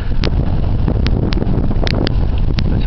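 Strong wind buffets the microphone on a bike ride, producing a loud, constant low roar broken by a few short clicks and taps.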